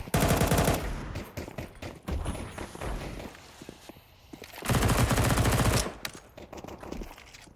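AK rifle gunfire in the Counter-Strike 2 game during a professional match on the Inferno map, loud sustained bursts of rapid automatic shots in two long volleys with scattered single shots and footstep thumps between.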